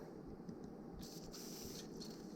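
WD-40 lubricant sprayed onto wire sleeving during automotive wiring work, heard as two short hissing squirts over a low, steady background rumble.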